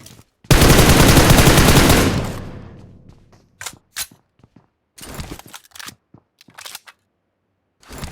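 Automatic weapon fire in PUBG on the Erangal map, a UMP or Uzi: one loud sustained burst of rapid shots lasting over a second that tails off, then scattered shorter bursts and single cracks at lower level.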